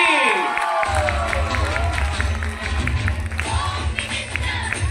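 Crowd at a Chiplun Home Minister women's contest cheers and claps loudly for the winning sister-in-law, a steady roar of applause and shouts lasting throughout, with a faint amplified voice and music over it.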